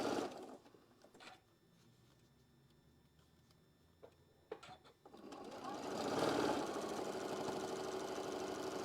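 A sewing machine stitches a quarter-inch seam on a quilt block, starting with a few short bursts and pauses before settling into a faster, sustained run of rapid needle chatter, close up.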